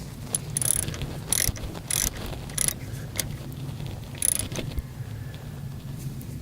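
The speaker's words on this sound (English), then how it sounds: "don't forget to tighten up the pulleys, the bolts on the pulleys" Ratchet wrench clicking in quick bursts while tightening pulley bolts on a 1988 Mazda RX7 Turbo, close and crisp over a low steady background hum.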